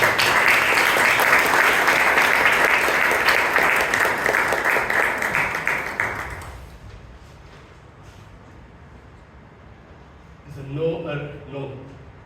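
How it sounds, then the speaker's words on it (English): Audience applause at a Toastmasters club meeting rolls on steadily for about six seconds, then fades to quiet room tone, and a voice speaks near the end. "Round of applause, please"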